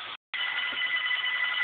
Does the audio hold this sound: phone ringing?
yes